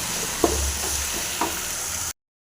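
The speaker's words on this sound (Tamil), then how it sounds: "இதையும் போட்டு நல்லா ஃப்ரை பண்ணிக்கலாம்" Tomatoes and coriander fry in a pan with an even close sizzle and two soft stirring knocks, then the sound cuts off abruptly near the end.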